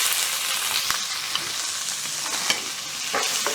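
Onions go into hot oil with cumin for kadai chicken, producing a dense close sizzle with occasional spatula scrapes and taps over a few seconds.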